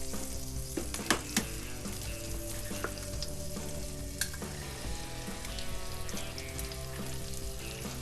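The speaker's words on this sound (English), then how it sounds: "It's time to fry up a couple of eggs over easy." Eggs frying over easy in a cast iron pan give a steady, close sizzle and crackle that runs the whole time, with a few sharper pops and scrapes over it and no talking.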